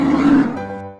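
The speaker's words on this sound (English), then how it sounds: "bear," A bear roar from an animal sound game, one loud, gruff growling burst that fades into a trailing rumble within about a second.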